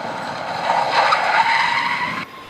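A car brakes hard to a stop, its tires skidding in a sustained screech that swells in the middle and then cuts off.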